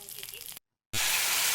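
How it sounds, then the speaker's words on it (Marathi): Ghee with bay leaf, chilies and ajwain sizzles loudly in a kadhai, a close bright hiss that cuts out briefly and then returns stronger. "कढईमध्ये तूप, तेजपत्ता आणि मिरच्या, ओवा घातला मी थोडा आणि छान असं परतून घेतलं"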